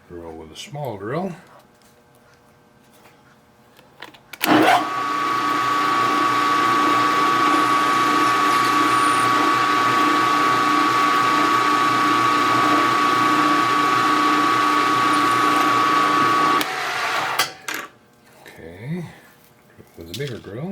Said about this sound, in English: drill with a small drill